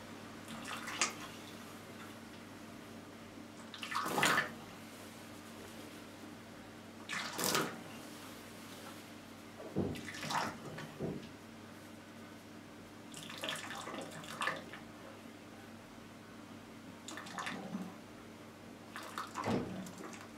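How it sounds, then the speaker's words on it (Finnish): Hot water is poured from a hose onto an engine piston in a cold engine, giving several separate bursts of splashing and gurgling water with quiet pauses between them, no voices. "nyt kaadan tänne männän päälle ensiksi kuumaa vettä"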